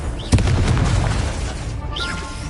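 In the PS5 game Hogwarts Legacy, a Confringo spell lands with a single sharp, booming explosion, followed by a rumbling decay and faint whooshing effects.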